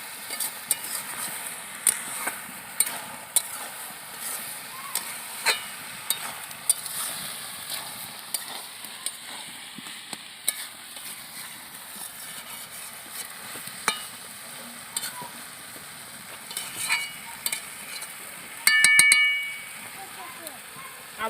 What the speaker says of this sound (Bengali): এবার আমি ভালো করে নেড়ে নেব।